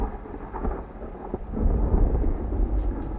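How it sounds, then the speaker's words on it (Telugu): Thunder rumbles through a film scene, a low, heavy roll that swells midway and hangs under a rain-like wash, with no voices. "బ్యాక్‌గ్రౌండ్‌లో థండర్ సౌండ్ వినిపిస్తుంది."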